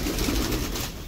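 Pigeons cooing near rooftop coops where kite-flying pigeon keepers handle their birds, soft low throaty coos blended into a close, steady outdoor background.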